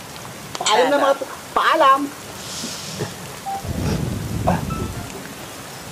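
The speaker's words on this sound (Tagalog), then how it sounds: "Lakas na ng ulan." Broadband hiss of heavy rain rises in the second half, following a stretch of excited talk at an outdoor cemetery meal; voices speak over the downpour.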